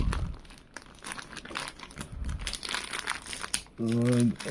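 Plastic packaging crinkles and crumples near at hand as a package of resistors is opened, with a short burst of tearing or a sharp tonal squeak near the end; a voice speaks briefly at times.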